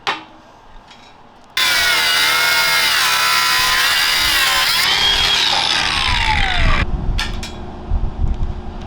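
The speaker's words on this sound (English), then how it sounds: "High impact screwdriver." A high impact screwdriver works on German Wespe armour plate, a sudden loud continuous whirring grind with shifting pitch that stops abruptly, followed by a few metallic clanks.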